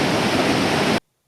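Waterfall just below the Campbell River suspension bridge in British Columbia, a steady broadband roar of falling water that holds level and close for about a second, then cuts off abruptly to silence.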